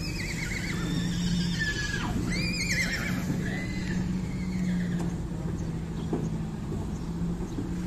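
Horses being unloaded at a horse market in Tolo neigh and whinny several times, loud and close, over a constant low mechanical hum and faint movement in the background.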